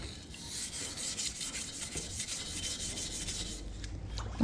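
A soft bristle brush scrubs rust off a Marlin rifle in continuous rhythmic rasping strokes, close and moderately loud, with no talk.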